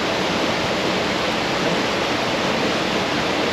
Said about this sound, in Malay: Hujan pagi ni. Jadi air bukit semua turun.